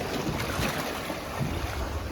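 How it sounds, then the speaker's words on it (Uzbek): Sea waves around a boat near Dokdo, a steady rushing wash of water with wind buffeting the microphone, continuous and fairly loud with no voices. "Dengiz."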